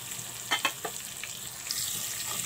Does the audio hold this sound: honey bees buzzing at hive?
no